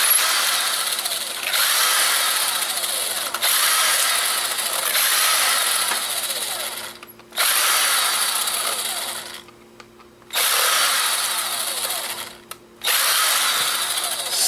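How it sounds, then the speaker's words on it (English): A power screwdriver backs screws out of an old camera, whining in five long, loud bursts separated by brief pauses. "So let's unscrew some of this stuff."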